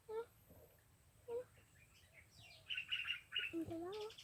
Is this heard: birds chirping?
yes